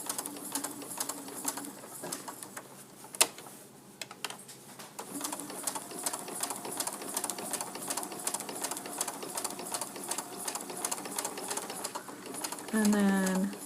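A sewing machine stitches a quilt applique with a fast, even mechanical whir that runs steadily through most of the stretch. A speaker talks quietly alongside, and a brief sharp knock is heard early on.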